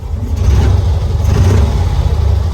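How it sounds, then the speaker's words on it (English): A 1990s Cushman Truckster utility vehicle's small engine revs under throttle, a steady close rumble that holds loud for a few seconds without pause. "Let's see how our throttle response works."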